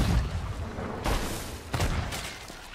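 Booming blasts of cannon fire in the video game Sea of Thieves, several heavy bursts in quick succession over a rumbling background.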